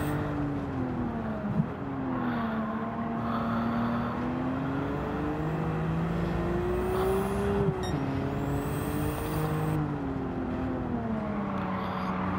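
A turbocharged racing car engine in Gran Turismo 7 roars continuously and close. The pitch climbs and drops sharply at several gear changes, and a faint high whistle comes and goes above the engine note. There is no talking.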